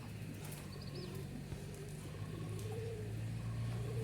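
Jalali pigeons coo in low, soft, drawn-out calls that repeat and overlap, fairly faint and steady against a quiet outdoor background, with no talking.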